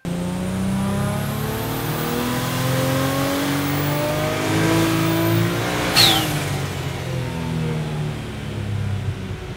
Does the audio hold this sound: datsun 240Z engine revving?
yes